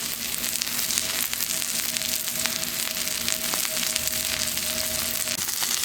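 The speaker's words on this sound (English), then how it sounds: "Bacon's rendering off." Bacon strips sizzle and render fat on a cooktop beside a thick pimento cheese burger patty, a steady close crackle with faint sharp pops and a low background hum, no talking.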